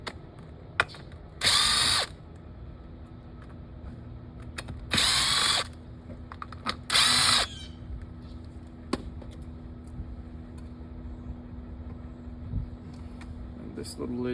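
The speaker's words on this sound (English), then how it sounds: "We got 4 screws keeping it together, so we're going to take these out." A power driver backs out the screws holding a pool motor together, giving three short, loud whirring bursts with ratcheting clicks, separated by pauses of low background hum and small handling knocks.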